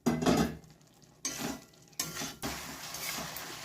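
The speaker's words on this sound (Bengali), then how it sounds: "তো এবারে ফুলকপিগুলো দিয়ে দিচ্ছি" Fried cauliflower pieces tumble into a pan for a spicy red curd cauliflower roast, giving a loud clattering burst followed by scraping stirs and a soft sizzle under several sharper knocks.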